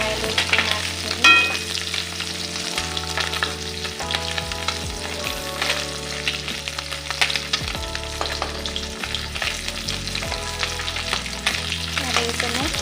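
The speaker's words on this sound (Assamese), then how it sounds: "এইদৰে মই লৰাই লৈছোঁ মাছখিনি।" Small fish fry in oil with banana flower and are stirred and turned, giving a loud, steady sizzle with repeated scraping and clattering of the utensil throughout.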